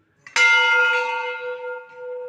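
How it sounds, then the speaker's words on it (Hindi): A large bell at a Panchmukhi Nageshwar Mahadev Shiva temple rings out with one sharp, loud strike, then a long, clear humming decay. "बड़े बड़े घंटियाँ"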